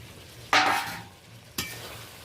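Fried potato and pointed gourd tossed in a thick paste of spices, yogurt and cashew-raisin in a pan, with two separate bursts of stirring and sizzle, the first longer and louder, over a low steady hiss.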